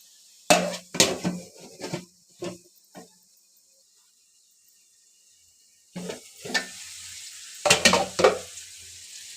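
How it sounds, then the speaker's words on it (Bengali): Taro leaves with dried fish stir-fried in a pan over medium-low heat, with a run of close spatula scrapes and sizzling bursts, a quiet pause, then more stirring clatter. "এখন এটাকে আবার ভালোভাবে 2-1 মিনিট কষিয়ে নিব।"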